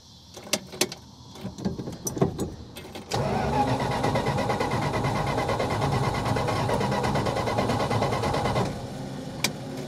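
A 1966 Plymouth Fury with ignition trouble gives a few sharp clicks and knocks, then cranks in a loud, continuous rapid churning for several seconds before it stops abruptly.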